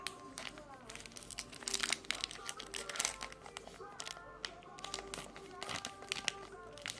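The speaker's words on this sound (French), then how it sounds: "il se déchire facilement les boosters là" A Pokémon booster pack wrapper is torn open by hand, with crisp crinkling and ripping bursts of foil coming in uneven spurts close by, while a voice murmurs faintly.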